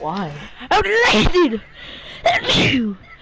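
A sharp, loud sneeze bursts out amid excited talking, followed by more speech; a voice is heard before and after the sneeze.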